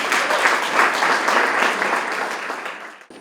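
Warm audience applause at an awards ceremony, a dense, steady round of clapping from a crowd lasting about three seconds before cutting off.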